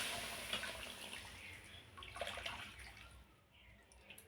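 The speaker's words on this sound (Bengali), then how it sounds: "এখন আমি মিক্সি জারের মধ্যে কিছুটা গরম জল দিয়ে মিক্সি জারটা দিয়ে এর মধ্যে দিয়ে দিচ্ছি।" Hot water from a mixer jar streams into a simmering Bengali egg curry, a steady splashing pour that holds for several seconds and then tapers off, close and alone.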